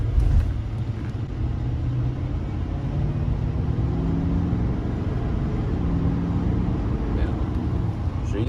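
A 2020 Chevrolet Silverado 2500HD High Country turbo diesel pickup pulls hard under acceleration, a steady loud low rumble from inside the cab with no audible shift breaks.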